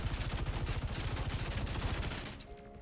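Sojourn's primary fire in Overwatch 2 rattles out as a loud, rapid stream of evenly spaced shots that holds steady for about two seconds, then stops abruptly.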